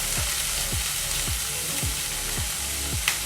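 Chili flakes sizzle steadily in a pan for an oil-free Indian weight-loss dish, with a broad frying hiss and a regular series of soft scraping strokes about every half second, ending on a small sharp clink.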